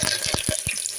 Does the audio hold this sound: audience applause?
no